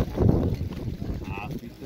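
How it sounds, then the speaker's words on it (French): Strong gusty wind buffets the microphone with a low roar, loudest at the start, while a voice speaks in the background at an outdoor street market in Marseille. "ce vent il va nous fracasser"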